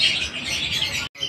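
A gift bird chirps and tweets continuously at close range, its bright calls filling the clip with only a brief pause near the end.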